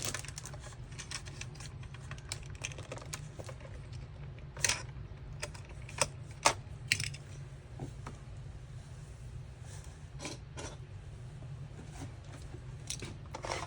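Craft paper trimmer with decorative blades slicing designs into a sheet of paper, a quiet series of sharp clicks and scraping cuts scattered irregularly over a low steady hum.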